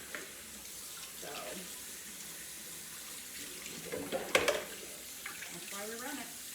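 A kitchen tap runs into a sink during dishwashing, a soft steady stream with occasional clatter and splashes, while someone talks quietly over it.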